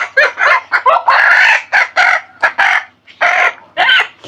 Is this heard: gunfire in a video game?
no